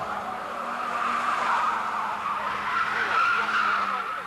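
Showroom stock race cars at a 1980 national championship are thrown hard into a turn, and their tires skid and squeal in a loud, sustained screech with engine noise beneath, rising slightly toward the end.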